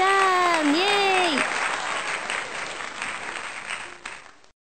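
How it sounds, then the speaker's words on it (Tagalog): A voice cheers with a rising 'yay' at the start, then a small group applauds at a school, quick scattered clapping that gradually fades out over a few seconds. "Ayan, palakpak naman dyan!"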